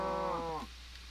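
A cow moos once in a farming video game, a loud, drawn-out tonal low that slides down in pitch and fades, with no talking.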